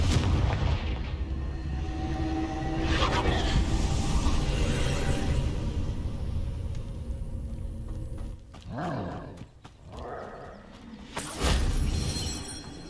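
Confringo blasting spells go off in Hogwarts Legacy, loud booming blasts that roll across a dense, continuous rumble, followed by a few sharper bursts near the end.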